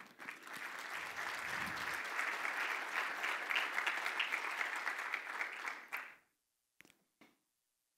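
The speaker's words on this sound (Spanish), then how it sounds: "Agradecemos también con este reconocimiento y un caluroso aplauso al director de operaciones de la empresa Diga, al licenciado Ricardo García Nieto." An audience at an industrial capability panel ceremony breaks into warm, dense applause for about six seconds, then it stops abruptly, leaving near silence broken by a couple of faint knocks.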